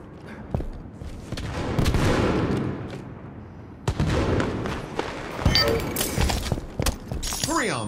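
Grenade blasts and gunfire from Halo 5 Guardians Breakout mode, heard as loud, booming explosive bursts and rattling shots with clanking mechanical effects and a rising synthetic tone near the end.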